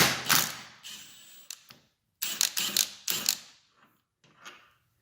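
Ratchet wrench loosening 13 mm bolts holding the steering rack to the crossmember on a Porsche 944, several bursts of rapid close clicking separated by pauses, the last burst fainter.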